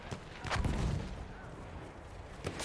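Enemy machine gun fire in Battlefield 1 rattles through a dense battle din, with a heavy cluster of bursts early on and isolated shots near the end, and no speech.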